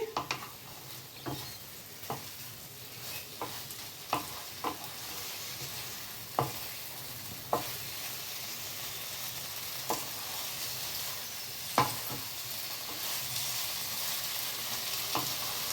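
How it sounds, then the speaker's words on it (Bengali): Okra masala (bhindi) frying over a high flame, a steady close sizzle broken by sharp scraping clicks of stirring at irregular intervals, with no voices. "জোর আঁচ দিয়ে আমি এটাকে ভাজা ভাজা করছি"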